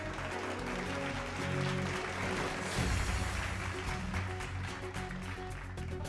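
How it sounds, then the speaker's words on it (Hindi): An audience applauds on stage to welcome a guest, a sustained wash of clapping that holds steady and swells slightly midway through. "जोरदार तालियों से उनका स्वागत कीजिए"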